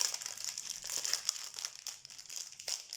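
A crinkly plastic packet of beads being opened, close crackling and rustling handled continuously for a few seconds, soft and alone.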